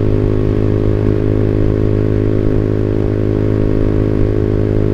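A motorcycle fitted with a WRX GP5 R2 aftermarket exhaust, 25 cm, idles loud and steady nearby, a continuous throbbing drone with no change in pitch and no voices.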